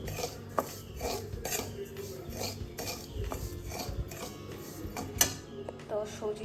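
A spoon scrapes and clinks in a pan of semolina being roasted, irregular metallic strokes and soft stirring repeating throughout at close range.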